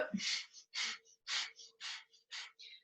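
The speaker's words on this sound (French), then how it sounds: "on y va avec la respiration du feu" Rapid, forceful nasal exhalations of Kundalini yoga breath of fire, six sharp even bursts about half a second apart, close and moderately loud with no talking.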